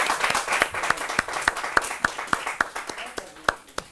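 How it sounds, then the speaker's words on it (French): Audience applause at a comedy show, distinct individual claps in a loose rhythm, fairly close, thinning out toward the end. "beaucoup de bruit pour Satina."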